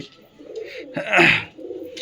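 Close, soft cooing from Giribaz and Mattraj flying pigeons comes in low throaty bursts, with one louder rolling coo in the middle.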